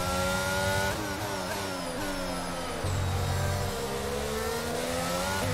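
F1 cars at the Imola GP start in F1 22 rev hard, engines whining up through the gears with sharp shifts, loud and continuous with no voices.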